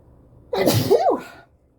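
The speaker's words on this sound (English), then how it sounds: "I'm going to sneeze." A single loud, close human sneeze, sharp and sudden, rising then falling over about a second before quiet returns.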